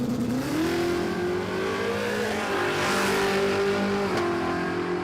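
A 540 cubic inch Chevelle drag car launches down the strip at a raceway, its engine note rising and holding a strong roaring drone heard from a moderate distance, with no talking.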